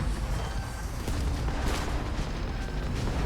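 Enemy gunfire in Starfield, a dense, continuous rumble of booming shots and blasts, loud and close, with no talk.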